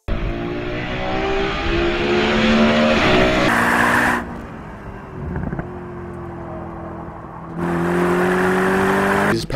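A Mercedes SLS AMG Black Series, the GT3-inspired gullwing coupe with a 622 hp naturally aspirated 6.2-litre AMG V8, drives with a loud, steady engine drone whose pitch shifts and surges in stages, with no talk over it.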